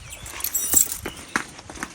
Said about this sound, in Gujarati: આ ઘોડી પાણી પીવા આવે છે.